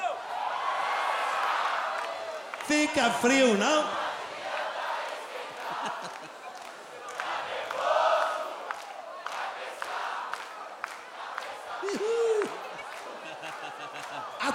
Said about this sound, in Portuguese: Eu quero uma salva de palmas para aquela dupla